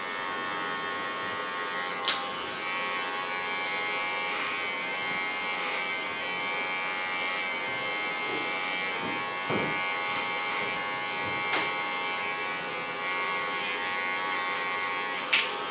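An electric hair clipper buzzes steadily and close while cutting hair at the back and along the lines of a fresh haircut, with a few sharp clicks and brief louder touches.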